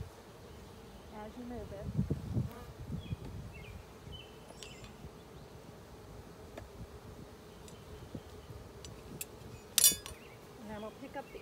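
Honeybees drone and buzz around an open hive during a March inspection, a swelling insect hum with scattered light clinks from the equipment, while a person speaks briefly over it.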